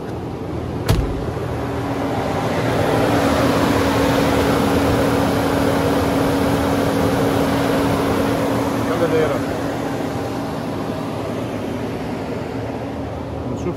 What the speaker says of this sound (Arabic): المروحة هيدي عنده مشكلة بتدلى دايرة على طول